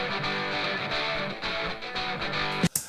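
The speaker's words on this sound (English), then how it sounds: "That's two guitars in my ears." Two distorted electric guitars play a punk song intro together, a dense sustained wall of chords running steadily for about three seconds before a brief sharp break at the end.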